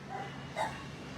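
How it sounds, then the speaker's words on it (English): A dog in an animal shelter kennel gives one short bark midway through, over steady room noise, with no one talking. "Such a beautiful, handsome dog."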